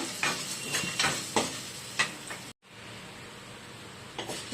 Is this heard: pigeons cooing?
no